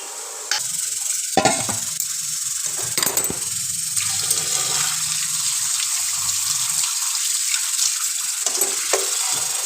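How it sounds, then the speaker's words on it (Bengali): Food is rinsed under running water while cooking, with a steady close gush and hiss of water and occasional knocks and clatters of dishes or utensils. "আবারও একটু ধুয়ে নিলাম।"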